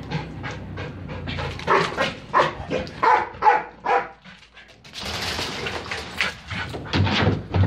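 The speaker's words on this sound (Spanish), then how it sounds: "Después de dos buenos ladridos que ya intimidan" A trained dog barks on command, several strong barks spread across the moment with panting between them, close and loud, with no talking over it.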